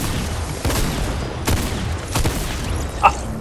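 Sniper rifle fire in a Fortnite trios match: several sharp gunshot bursts spaced over a few seconds, with a brief bright ping near the end and no voices in between.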